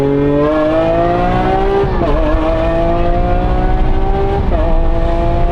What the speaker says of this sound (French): Oh le bruit mec, on dirait une Formule 1.